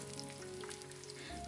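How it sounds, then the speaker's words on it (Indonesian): Chicken pieces frying in hot oil in a home kitchen, oil ladled over them as they cook, giving a soft continuous crackling sizzle, faint and steady with no talk. "sambil digoreng ayamnya aku siram-siram pakai minyak biar panasnya merata"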